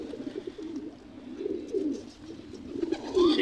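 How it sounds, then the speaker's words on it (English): Pigeons at a racing loft coo in low, soft, rolling bursts that repeat steadily, fairly close, with a faint bird chirp near the end. "It's 100 pigeon."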